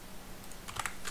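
Quick bursts of keystrokes on a computer keyboard, a short cluster of clicks entering numbers, close and clear over a quiet room hum.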